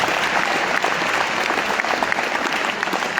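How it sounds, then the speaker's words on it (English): Steady, dense audience applause at a rugby awards ceremony fills the hall, loud and continuous throughout with no speech over it. "Can we please give them a round of applause?"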